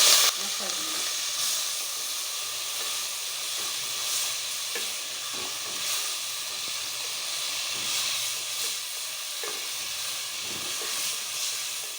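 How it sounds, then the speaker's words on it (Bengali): Ginger paste, salt and spices frying in a pan for chicken soup give a continuous soft sizzle and steamy hiss, with occasional faint stirring scrapes, moderately quiet and close, with no voices. "আদা বাটা দিয়ে দিচ্ছি 1 টেবিল চামচ পরিমাণ আর স্বাদ মতো লবণ দিয়ে দিচ্ছি। এখন আমি এইভাবে 1 মিনিট ভাজবো।"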